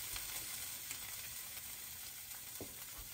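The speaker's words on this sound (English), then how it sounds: "I got this on medium heat, and I'm going to put in about a tablespoon of tomato paste." About a tablespoon of tomato paste sizzles in a pan over medium heat at a camp stove, a soft continuous frying hiss with a small clink near the end and no talking.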